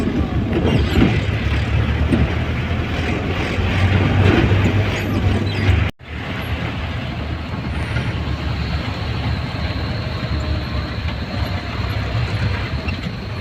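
Steady low rumble of a toy train idling near a station in Siliguri, West Bengal, continuous and fairly loud, with a brief dropout midway before the engine drone resumes.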